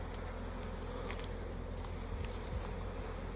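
Continuous buzzing of many honey bees being moved from a full nucleus box into a hive, close and steady, with no talking.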